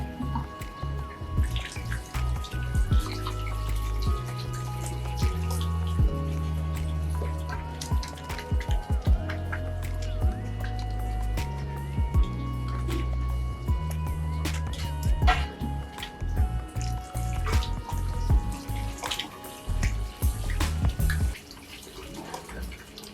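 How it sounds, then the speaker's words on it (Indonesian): Water from a homemade Arduino-controlled touchless faucet, splashing and dripping with uneven patters into a basin, starting and stopping over time, with music playing underneath. "itu adalah contoh dari hasil akhir pembuatan keran otomatis"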